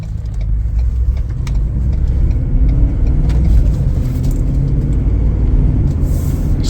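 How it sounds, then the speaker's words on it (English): A 2022 Ford F-250 XL Crew Cab 2WD pickup on a test drive, its engine and road noise forming a steady, loud low rumble from inside the cab, with faint ticks and rattles over it and no talking. "Take it for a test drive."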